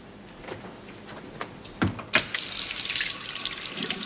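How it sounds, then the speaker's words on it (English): Hot water running from a tap into a sink, starting after a few knocks and clunks and then flowing steadily as a loud, close hiss through the end. "Hot water, Ruth, and soap."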